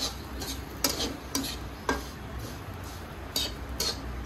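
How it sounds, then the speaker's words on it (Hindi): A spoon scraping and stirring crumbled homemade mawa into a mohan-thal besan mixture in a pan, with repeated metallic clinks against the pan at an irregular rhythm over a steady background hiss. "इसको मैं थोड़ा सा हाथों से क्रम्बल कर देती हूँ और इसको भी हम मिक्स कर लेते हैं इसमें"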